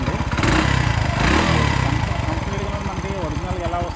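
The reworked engine of a fully modified Hero Honda CD100ss runs close by with a rapid, even thumping beat that swells slightly, as someone speaks over the steady engine note.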